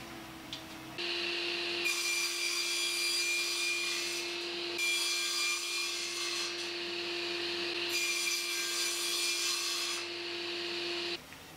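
A table saw rips recycled pallet wood, its motor humming steadily while the blade bites through boards in several long bright cutting passes separated by brief dips.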